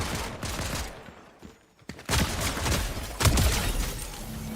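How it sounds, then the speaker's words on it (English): Gunfire in Fortnite, dense bursts of shots in two loud clusters, split by a brief quieter lull with a single sharp crack. "You trying to shoot me like that?"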